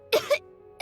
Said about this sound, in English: He kept coughing all the time, just like me.